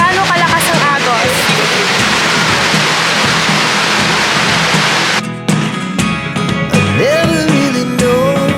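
Niagara Falls waterfall roars with loud, steady rushing water that fills the whole clip, with other sounds and what may be a voice joining briefly near the end.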